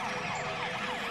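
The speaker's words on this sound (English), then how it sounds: "Turn on your siren and rush to the stadium." A police car siren from a children's cartoon wails continuously in rapid, repeated up-and-down sweeps, loud and close with no pauses.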